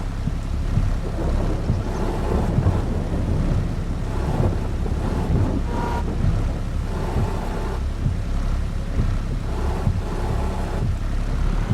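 Heavy rain and a thunderstorm in Farming Simulator 22 give a steady loud roar of rainfall with low rumbling thunder throughout, with no voices.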